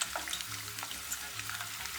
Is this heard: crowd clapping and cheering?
no